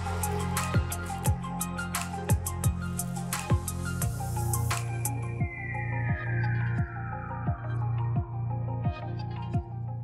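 A compact laser welding system with a rotary axis runs a circular weld, giving a steady machine hum with rhythmic soft pulses and a falling whine partway through, heard alone without talk.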